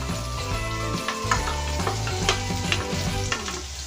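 Roughly chopped green vegetables, beans and small soybeans among them, are stirred and sautéed in a pan for a semolina breakfast dish, a soft sizzle and scraping running steadily under background music.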